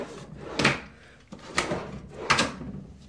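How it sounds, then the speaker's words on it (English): A sliding closet door in a master closet remodel rolls open and slams shut three times in quick succession, each a sharp, close bang following a brief rumbling slide. "you can see it slides open and slams"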